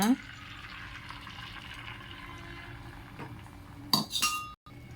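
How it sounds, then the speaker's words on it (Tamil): Beaten egg seasoned with pepper and salt frying on a hot tawa, a steady soft sizzle running throughout, with a few clinks of a utensil against the pan near the end. "இப்போ இந்த எக்கை வந்து அந்த தவாவில் நம்ம சேர்த்துக்கலாம்"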